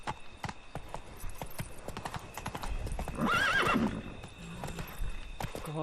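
Roach the horse gallops in The Witcher 3: Blood & Wine, a steady run of clip-clop hoofbeats throughout with a brief neigh midway, set against game ambience and music.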